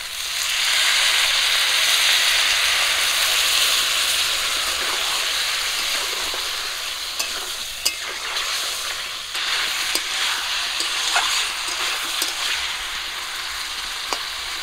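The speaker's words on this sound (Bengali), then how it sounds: "আদা জিরা আর রসুন বাটাটা দিয়ে পেঁপে আর আলুগুলো একটু ভেজে নিয়েছি। কষান করার জন্য একটু জল দিব।" Papaya and potato pieces frying in a pan with ginger, cumin and garlic paste in a rural village kitchen, giving a loud, steady broadband sizzle that eases slightly after a few seconds, with small pops and stirring clicks and no talk.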